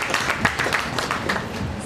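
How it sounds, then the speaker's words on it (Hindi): Loud applause from a seated audience at a stage event, a steady wash of many hands clapping at close range, with a few sharper claps standing out. "जोरदार तालियों से स्वागत"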